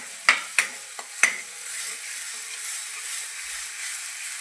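Red chilli powder, turmeric and garam masala sautéed in a pan for a tender coconut bhaji open with four sharp scraping clicks of a spoon, then settle into a quiet, continuous sizzle.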